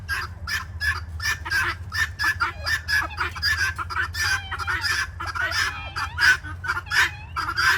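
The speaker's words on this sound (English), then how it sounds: "Listen to it. Bird fight, bird fight, bird fight." Agitated squawks and clucks of fighting birds overlapping in a busy, scuffling chorus over a low background hum, close and continuous.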